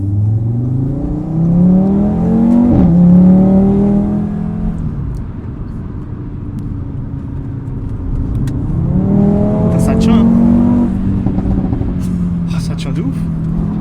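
An Audi RS3 with 590 hp and a multimap SP98/ethanol tune accelerates hard in two pulls, its engine note rising loudly through the gears with shift breaks between them, and excited voices over the engine.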